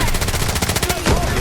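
Automatic gunfire in the mobile shooter game Delta Force Mobile, a fast, loud, continuous string of shots over about a second and a half, with a player talking.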